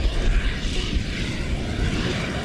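A fracking gas flare in Texas gives off a steady, loud, broadband roar, much like a jet passing overhead, continuous and unbroken with no voices.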